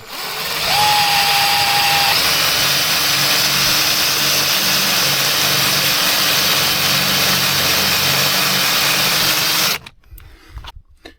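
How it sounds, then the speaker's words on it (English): A Ryobi power drill whines loudly and continuously while drilling out a rivet on a BMW E46, with a pitch sweep near the start, then it stops abruptly near the end, leaving clatter. "Got my Ryobi drill"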